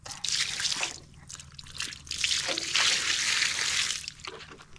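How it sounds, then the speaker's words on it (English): Water trickles and splashes in uneven spurts while a foot is being washed, close and fairly soft, with a faint voice in the background. "I'm gonna wash my foot."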